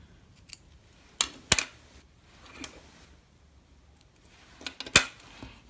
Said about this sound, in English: I'm just going to give it a little trim.